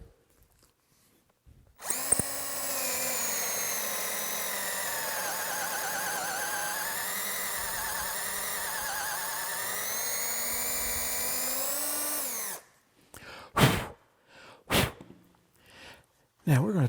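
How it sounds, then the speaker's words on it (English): A drill bores a dowel hole into the front leg of a sculpted wooden child's rocker, running loud and steady for about ten seconds before stopping, followed by a few brief knocks and handling sounds. "So now let's drill the hole."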